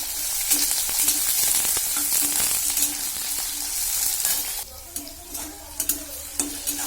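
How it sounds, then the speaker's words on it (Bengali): Potato pieces frying in hot oil in a wok make a steady, close sizzle with crackling, then a few scraping stirs and clinks toward the end. "আলুগুলো ভাজা ভাজা হয়ে আসবে"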